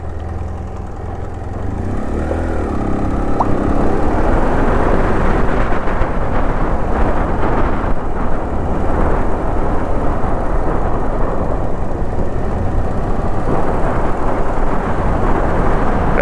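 A motorbike rides through the narrow streets of central Madrid, its engine and road noise forming a steady, close roar that builds after a quieter start and carries on without a break.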